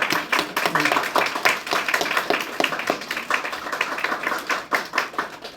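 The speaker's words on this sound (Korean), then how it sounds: "네, 박수 크게 하겠습니다." A church congregation gives a soon-to-wed couple a round of applause at a Sunday service, with steady, fairly loud clapping from many hands, a little talk mixed in.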